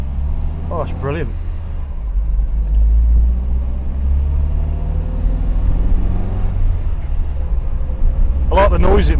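An old FSO Polonez idles nearby with a low, steady engine rumble that rises slightly partway through, while people talk briefly at the start and again at the end.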